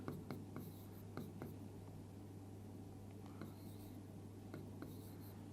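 A pen scratches across paper while an arithmetic progression formula is written out by hand, producing faint, close, intermittent strokes and taps over a low steady hum.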